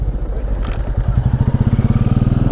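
Motorcycle ridden on a road near Poombarai village in Kodaikanal, its engine thumping close and loud with a steady, quickening rhythmic putter of exhaust pulses.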